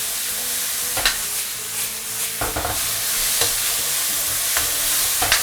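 Pork shreds with peppers stir-fry in a hot wok under a constant loud sizzle, broken by scraping spatula strokes and tossing clatters at irregular intervals, with no voices.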